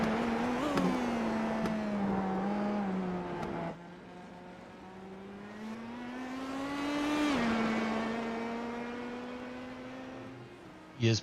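IndyCar race car engine in a sim racing game at Portland, a high buzzing whine that climbs and falls through gear changes, steady and close across several seconds, with faint voices underneath.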